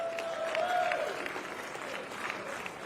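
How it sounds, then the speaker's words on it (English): An audience applauds pickleball players after a championship match at an open tournament, a fairly faint, steady patter of clapping from a crowd with a brief tone at the start. "How about a round of applause for all players?"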